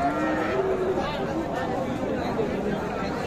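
A Sahiwal cow at a busy cattle market in Ambari lets out a drawn-out low moo near the start, surrounded by constant crowd chatter and people talking nearby.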